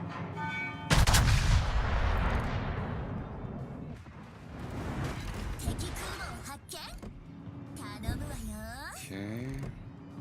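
Heavy guns in the game WarBot-NiX fire with a booming blast that trails into a rumbling decay, followed by mechanical whirring and sweeping tones, while a voice talks.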